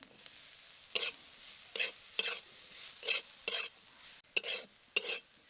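Broccoli, onion and chili are stir-fried in a pan, heard as about eight rhythmic scraping stirs with brief sizzling bursts and quiet gaps between them.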